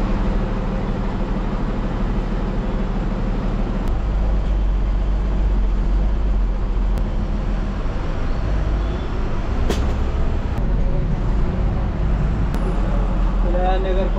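An MSRTC Tata BS6 bus pulling away after departure on a hot-day journey, its steady engine drone and road rumble loud and continuous throughout, with a few brief clicks and rattles.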